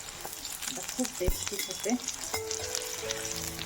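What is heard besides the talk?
tempering dal in hot oil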